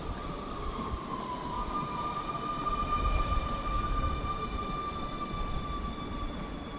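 A subway train passes through a station in a video game, a steady low rumble with a sustained high metallic whine and faint tonal squeal, moderately loud and continuous, with no talking.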